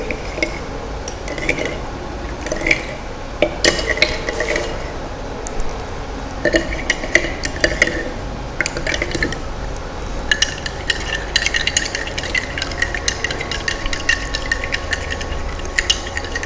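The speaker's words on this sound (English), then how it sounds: "when I will mix with spoon" A spoon stirs sugar into water in a glass, making a continuous run of bright, rapid metallic clinks and tinkles against the sides, close and fairly loud throughout.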